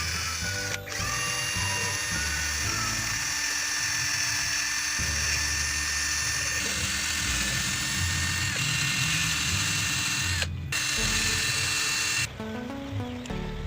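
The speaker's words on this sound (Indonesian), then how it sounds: "Selanjutnya kita bor guys untuk memasang itu ya bautnya." A power drill whines continuously up close, boring bolt holes in a 1:16 scale miniature truck chassis, its motor pitch shifting as it bites through material, with a few brief stops and restarts.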